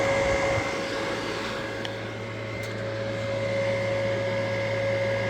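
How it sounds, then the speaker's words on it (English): Exhaust fan on a MachPro MP15 mini excavator, a steady whirring hum with a strong constant tone, close and unchanging for several seconds with no talk. "Here it has an exhaust fan."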